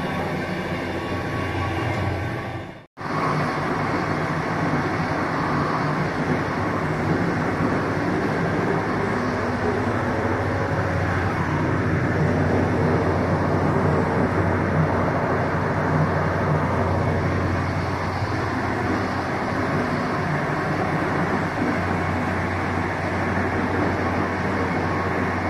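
An old sleeper train travelling from Helsinki to Kolari rumbles steadily throughout, a continuous low rolling drone of the carriage on the rails with a brief dropout near the start.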